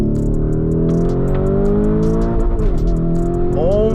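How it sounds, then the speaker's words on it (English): A Nissan GT-R's engine revs hard up toward the red line, loud and close, pitch climbing steadily across several seconds with a brief dip near the end before rising again. "Sounds so sick when it hits the red line."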